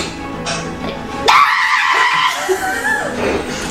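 A person gives a loud, drawn-out, screechy vocal imitation of a bellowing frog. It rises suddenly and lasts a couple of seconds in a noisy room, with laughter and chatter around it.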